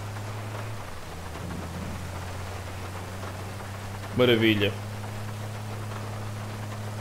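Rain in GTA V over Los Santos, a steady hiss with a low engine-like hum beneath, briefly interrupted by someone speaking a single word.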